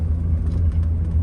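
A 1978 Mercedes-Benz 450 SL running on the road, its engine giving a steady low rumble that holds even and fairly close throughout, with no voices over it.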